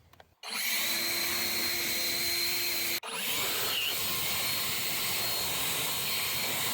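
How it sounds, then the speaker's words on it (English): An Ego LB6504 56V cordless leaf blower runs close by with a loud, steady whir, with one brief dip where it cuts off and revs back up; no talking. "I can also use the blower to clean off the lawnmowers when I'm done mowing."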